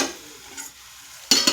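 Brinjal and dried prawn curry is stirred in a pan, giving a low sizzle followed by a sudden louder scrape and clatter of the spoon near the end.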